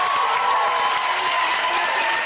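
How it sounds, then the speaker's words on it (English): Studio audience applause rings out at the close of a Family Fortunes game show, a dense, steady wash of clapping that carries loud and unbroken, with a faint tone sustained underneath. "Give the big round of applause for the great family, the Lewises"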